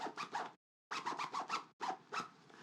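Quick rasping scratches from a jacket zipper, close and crisp in three short bursts separated by brief silences, mimicking a record scratch.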